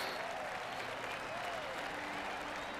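A golf gallery in PGA 2K23 gives a soft, steady round of clapping, quiet and distant, with faint voices murmuring underneath.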